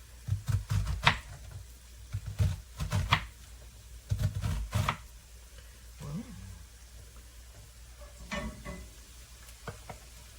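Half an onion being chopped for pasta e fagioli, with irregular bursts of knife knocks against a board that come in clusters, then thin out into a few scattered taps in a quiet kitchen.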